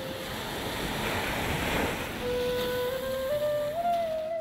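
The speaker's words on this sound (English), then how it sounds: "and the waves of the sea." Ocean surf washes ashore in a broad, steady rush of breaking waves, loud and close, with sustained musical tones rising in over the second half.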